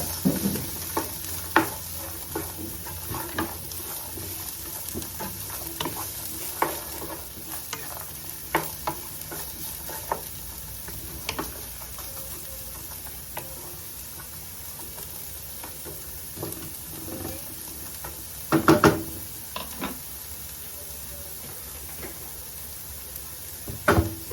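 Celery, carrot, garlic, ginger and onion sauté in a pot for a beef rib stew, a low continuous sizzle over a long stretch, punctuated by scattered spoon scrapes and utensil knocks, with no talk.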